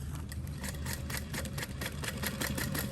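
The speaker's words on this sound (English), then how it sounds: "I'm going to top stitch along the top edge of everything first," A sewing machine top stitching a clear vinyl tote, a fairly quiet, steady run of rapid rhythmic needle clatter throughout, heard close up.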